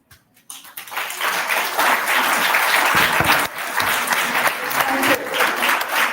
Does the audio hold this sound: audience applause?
yes